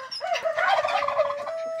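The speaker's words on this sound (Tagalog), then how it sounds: "Pabo." Domestic turkey gobbling up close, a loud rapid rattling gobble lasting under two seconds.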